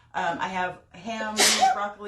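A single loud, close sneeze bursts out in the middle of a person's speech, which continues around it.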